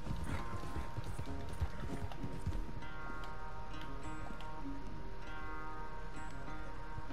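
Horse hooves gallop in Red Dead Redemption 2, a steady, rapid clip-clop rhythm that runs loud and continuous through the whole stretch, with a busy game soundscape underneath and almost no talk.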